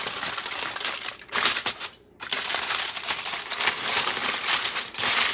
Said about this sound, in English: Roll it on the aluminum foil.